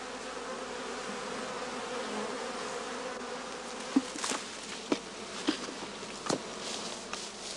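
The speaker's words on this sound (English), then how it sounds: "The bees now set about enlarging the entrance of their skep by gnawing it and smoothing it all around with propolis." Bees hum steadily at the entrance of a straw skep, a soft continuous drone broken by a few sharp clicks and taps near the end.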